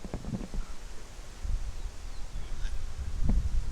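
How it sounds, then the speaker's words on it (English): Gusty wind buffets a microphone outdoors in a cemetery among headstones, low rumbling blasts rising and falling unevenly, with faint rustling and no talking. "And the wind is getting a bit choppy."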